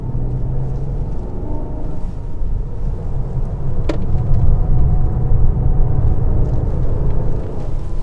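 An armored Mercedes S680 Guard V12 sedan corners under load, a dense low road and tire rumble filling the cabin steadily, swelling slightly through the turn with a faint tick midway.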